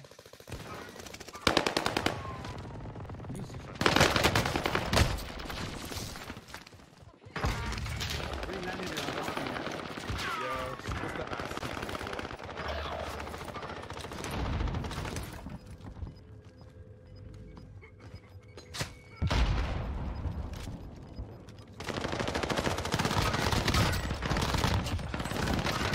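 Bursts of automatic fire from an RA 225 submachine gun in Warzone come in loud rapid strings separated by short gaps, with players talking over the shooting.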